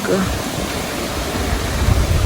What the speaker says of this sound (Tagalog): nagpapapasok na po si bossing ng tubig galing po doon sa ilog